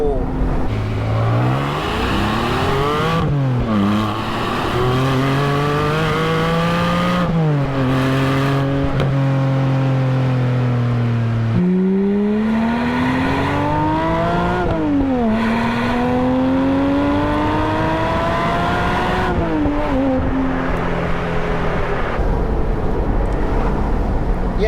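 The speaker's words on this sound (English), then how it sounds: "Loud exhaust button on, second gear." A Porsche Spyder with a new loud exhaust accelerates hard in second gear, engine note climbing repeatedly through revs with brief drops at shifts or lifts, loud and close throughout.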